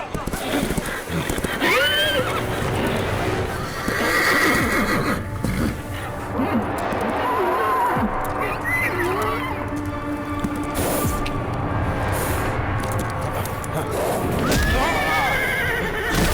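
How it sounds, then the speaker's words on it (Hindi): An uncontrolled horse neighs and whinnies repeatedly while hooves clip-clop, loud and close, amid the commotion of an action film scene with voices mixed in. "पहले जाके अपने बेकाबू हुए घोड़े को कंट्रोल करो।"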